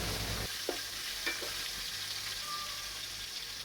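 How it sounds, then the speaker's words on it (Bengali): Big fish heads fry in hot oil in a home kitchen, a steady soft sizzle running throughout with a few brief scrapes and knocks of a utensil stirring in the pan. "প্রথম 3টা মাছের মাথা ভাজা হয়ে গেলে ওইগুলো নামিয়ে তারপর আমি বাকি মাছের মাথাগুলো দিয়ে দিচ্ছি"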